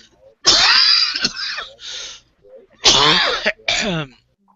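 Loud, close coughing and throat clearing in a few harsh bursts, with short pauses between them.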